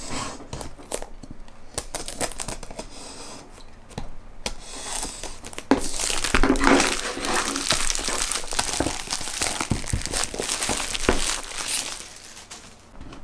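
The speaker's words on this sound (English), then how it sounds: "grab our handy dandy knife over here. Cut the little plastic off here." A knife slices and peels the plastic wrap off a Huawei MediaPad T5 tablet box, giving a run of close crinkling, tearing and scratching sounds that grow busier midway, with no talk.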